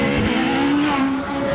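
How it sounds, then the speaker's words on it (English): A Pilbeam MP97 hillclimb race car with a 4-litre Judd V8 screams past at Harewood, its loud, steady high-revving engine note rising and falling slightly as it goes by, with a hint of tyre noise. "heading to Farmhouse with the Pilbeam MP97 4-litre Judd V8"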